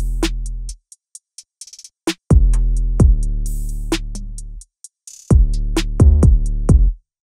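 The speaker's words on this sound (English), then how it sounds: "So the drums sound like this." A punchy programmed beat made in FL Studio, with deep booming kicks and crisp hi-hat ticks, playing a sparse pattern with gaps between hits, loud and dry.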